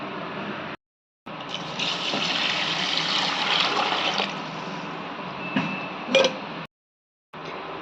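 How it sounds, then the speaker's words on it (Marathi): Long-grain rice for chicken dum biryani is rinsed under running water, a continuous splashing gush that stops briefly twice and carries a few sharper splashes and clinks, with no talk. "आता ह्याच्यामध्ये एका पाण्यानं धुवून घेऊया आणि नंतर भिजू घालूया"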